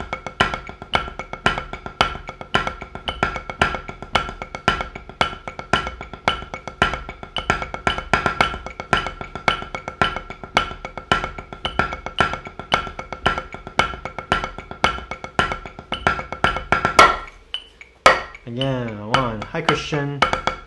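A steady paradiddle groove on drums played with a metronome, tight crisp hits ticking evenly for about seventeen seconds before stopping, followed by a few scattered hits and a brief voice.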